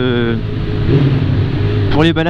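Motorcycles on a relaxed club ride rumble steadily nearby, engine drone loud throughout, with someone speaking over it at the start and again at the end.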